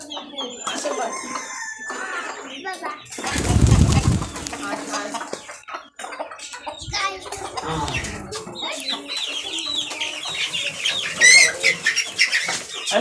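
Village native chickens being grabbed for catching squawk and cluck, with a loud burst of wing flapping in the middle and more scattered clucks and flutters afterward. Voices murmur faintly in the background.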